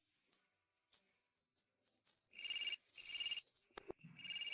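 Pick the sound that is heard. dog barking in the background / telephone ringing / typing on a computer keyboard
telephone ringing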